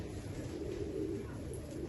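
Golden pigeons on a rooftop loft cooing softly in low, rounded murmurs, a steady close warble over faint background hum.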